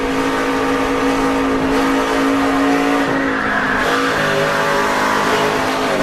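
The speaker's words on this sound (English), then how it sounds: "heard the tires start squealing there when he lost control of the back of that truck" Loud, steady race engine roar with a high tire squeal running through it as a race truck loses control of its rear coming out of turn 4, no voices.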